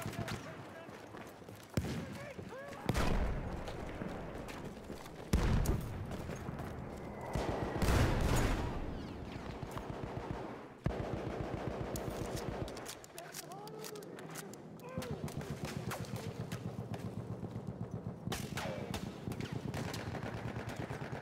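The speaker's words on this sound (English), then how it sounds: "Look out! Machine gun!" Machine gun fire rattles through a Battlefield 1 battle in rapid bursts and single loud shots, near and far, with repeated automatic volleys amid game chaos and shouted voices.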